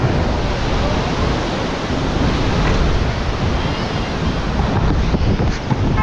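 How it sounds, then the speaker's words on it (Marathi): Steady roar of sea waves washing onto the Konkan shore at Kunkeshwar, loud and continuous, with wind buffeting the microphone throughout. "आणि समुद्र वगैरे बघा"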